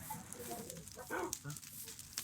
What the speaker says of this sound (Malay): Banyak anjing kat sini.